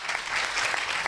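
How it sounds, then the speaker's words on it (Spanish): A panel audience at a tech conference claps briefly, a short burst of dense applause filling the room. "Un aplauso."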